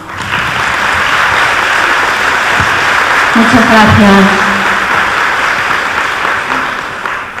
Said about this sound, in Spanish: para lo que pedimos un aplauso